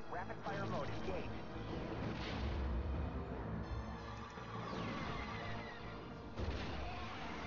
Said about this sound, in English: Rapid fire mode engaged.